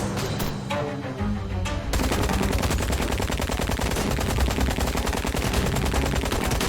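Enemy gunfire in the video game Syberia: The World Before, starting with scattered shots, then breaking into loud, dense automatic fire that rattles on without pause.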